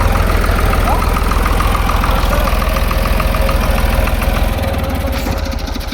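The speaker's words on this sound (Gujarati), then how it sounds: "આ ટ્રેક્ટરનો અવાજ છે" A loud tractor engine idles close by, a steady rumbling chug with rapid rhythmic knocking that continues throughout.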